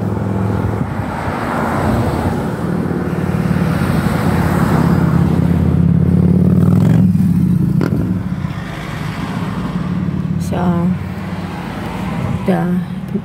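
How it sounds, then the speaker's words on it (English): Cars idle and pass along a road lined with vehicles waiting outside a school during a lockdown, a steady low engine rumble with passing swells, and voices talk intermittently over it. "road is lined with cars waiting for their children."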